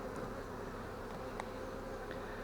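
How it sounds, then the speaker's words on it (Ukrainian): Honey bees hum steadily around a full hive during the acacia honey flow, a dense continuous buzz close to the microphone with faint individual bees passing by. "Мед бджоли носять, розплоду хватає, навіть допомагає слабшим сім'ям."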